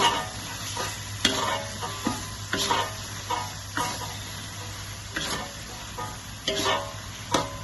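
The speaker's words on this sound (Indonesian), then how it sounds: "Kita tumis sampai berbau harum." Chilies, turmeric and spices sautéing in oil for a Minang carp curry, a continuous sizzle broken by repeated scraping stirs of a utensil in the pan at uneven intervals.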